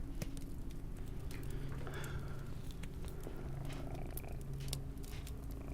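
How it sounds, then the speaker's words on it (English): A cat named Gracie purrs softly and steadily up close, a low continuous rumble with faint crackles and taps over a quiet background. "Now you can hear Gracie purring."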